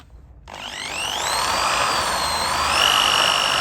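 A DeWalt power tool starts abruptly and runs at a steady high whine with rising tones, loud and close, working on a lowered Nissan Micra K11.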